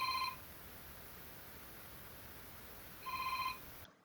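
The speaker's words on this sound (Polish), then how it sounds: "Jeśli telefon jest w zasięgu Bluetooth, zacznie dzwonić, dopóki nie wyłączymy tej funkcji." A smartwatch's find-my-phone feature sets off a phone ring in two short, clear electronic ring bursts about three seconds apart, fairly faint in a quiet room.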